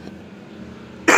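A single sharp, close cough from a teacher speaking during an online lesson breaks out abruptly at the end of a quiet stretch.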